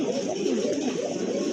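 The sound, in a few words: pigeon cooing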